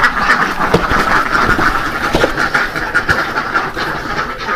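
A flock of ducks, including some black ones, on a duck farm in Sukabumi, quacking constantly in overlapping, raspy calls from many birds at close range, with no speech.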